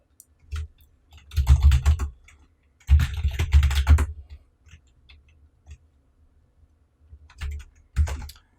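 Keys clatter on a computer keyboard as a password is typed, in several quick close bursts of clicking separated by short pauses.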